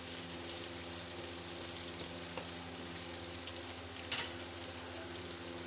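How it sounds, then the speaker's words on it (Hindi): Potato and cauliflower fry quietly in a pan, a soft continuous sizzle with a few faint clicks and one sharper tap of a spoon, heard alone without talk. "अब इसे 5 मिनट हो गए भूनते हुए।"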